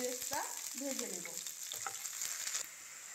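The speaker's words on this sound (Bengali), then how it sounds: "এই পেঁয়াজগুলো দিয়ে আমি বেরেস্তা ভেজে নেব" Sliced onions frying in hot oil for beresta, a steady bright sizzle that crackles and bubbles as they are stirred now and then, loud and close with no voices.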